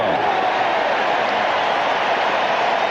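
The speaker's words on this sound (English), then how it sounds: "the crowd now gets into it here in Atlanta" Broad, steady roar of a stadium crowd cheering at an Atlanta baseball playoff game, a dense wash of many voices and some clapping that holds evenly throughout.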